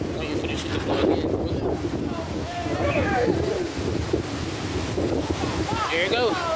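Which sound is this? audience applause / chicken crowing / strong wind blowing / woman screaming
strong wind blowing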